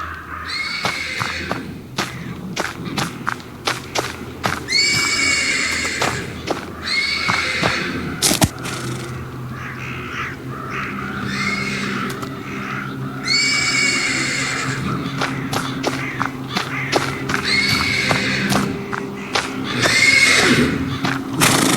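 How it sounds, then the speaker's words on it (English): A horse neighs repeatedly from stables in the video game Lunacy, loud, shrill whinnies spaced a few seconds apart, over a steady background of low rumbling and occasional clattering. "The persistent neighing of a horse can be heard from the stables."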